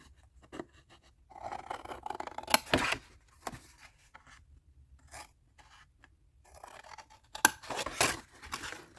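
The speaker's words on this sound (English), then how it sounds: "So we need to cut this piece down and this piece down." Scissors snipping through scrapbook paper, with several short, quiet cuts and rustling handling between them and a couple of louder snips near the end.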